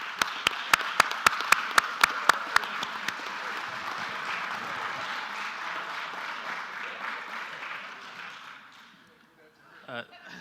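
At a police awards meeting, an audience applauds in a sustained wash of clapping that opens with several sharp, evenly spaced claps and fades out after about eight seconds.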